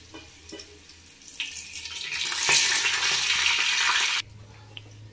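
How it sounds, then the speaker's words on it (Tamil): Whole spices, cardamom, fennel, cinnamon and cloves, hit hot oil in a pan for Ambur-style kuska biryani, rising into a loud close sizzle that fades abruptly, with faint stirring clinks before and after. "எண்ணெய் காஞ்சோனே நம்ம சோம்பு ஏலக்காய் எல்லாமே ஆட் பண்ணிக்கலாம்"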